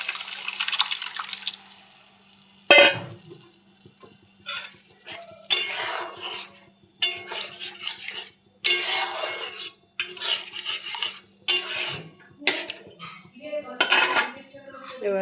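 Boiled peas go into a pan with fried spices and potatoes and are stirred, a series of loud metal spoon scrapes and clanks against the pan, separated by quiet gaps.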